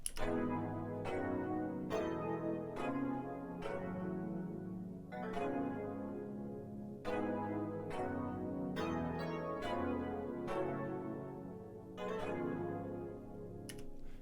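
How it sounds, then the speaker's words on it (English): A soft synth pad layered with a bell-like tine sound plays a sustained, repeating chord progression for a pluggnb beat, each chord struck with a light attack and held, fairly quiet with no voices. "This is a pad that has tines with it"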